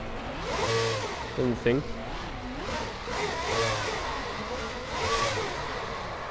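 Revving drift car engine at high RPM during a Formula Drift event, rising and falling in pitch with several loud surges, heard under excited talking voices.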